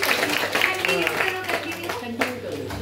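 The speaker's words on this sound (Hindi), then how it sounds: "एक बार जोरदार तालियां बजाएं आप।" Audience applause at an inclusive poetry competition: a sustained, moderately loud wash of clapping with a speaker's voice carrying over it.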